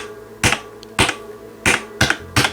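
Keys on a Logitech MX Mechanical keyboard are pressed one at a time, five loud sharp clacks with a hollow, metallic ring, spaced irregularly about half a second apart and heard alone up close.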